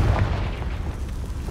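A Confringo fire spell erupts in Hogwarts Legacy, producing a deep, rumbling boom with a heavy low-end burst that fades into a dull, sustained roar, with no talk over it.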